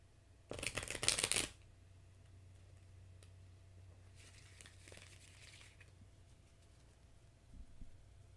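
A deck of cards is riffle-shuffled in one quick, crisp burst near the start, followed by quieter shuffling and soft handling sounds.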